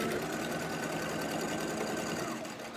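A sewing machine runs steadily close by, stitching a fabric face-mask strap in one continuous, even whir with no pause.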